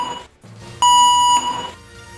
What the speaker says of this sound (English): Listen for the all clear signal before you replace your T-card and return to normal duties.